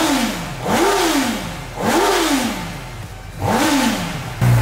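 A CB1000 motorcycle engine revs hard three times in cold weather, each burst climbing and falling back to a rough idle, loud and close.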